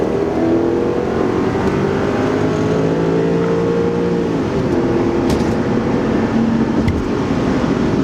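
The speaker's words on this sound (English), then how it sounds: "I think there's a car coming over here" A car passes nearby on the road, with a rising and falling engine tone and tire roar that sweeps past midway, loud and close, without any voices.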